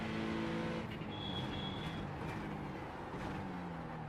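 A GT3 race car in the iRacing simulator at Sebring, with its engine droning steadily through a gear change, captured as a loud, continuous in-car engine sound.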